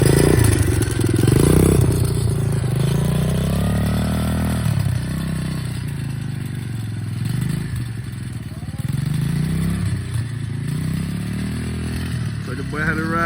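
Nearby, a 125cc dirtbike engine hums steadily as it is ridden, with gentle throttle swells and a clattery edge, and a person talks over the engine throughout.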